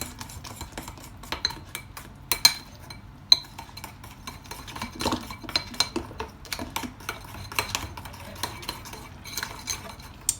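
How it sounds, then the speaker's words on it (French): A utensil mixes apple tart ingredients in a bowl, giving steady close scraping and clinking strokes against the sides with irregular sharper taps and no talking. "Maintenant je mélange."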